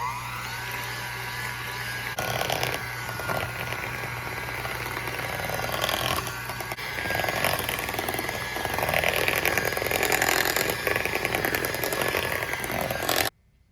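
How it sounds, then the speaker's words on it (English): An electric beater whirs steadily while mashing red potatoes with garlic milk, a loud continuous motor drone with shifting pitch and rattling as it works through the pot, then cuts off abruptly at the end. "Now you gently use that electric beater."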